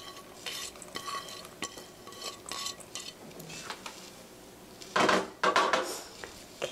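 Chopped cabbage, onion and garlic go into a pan for a meat sauce rice bowl, with scraping and clattering stirs over a faint sizzle, then louder rustling tumbles near the end, close by and without speech.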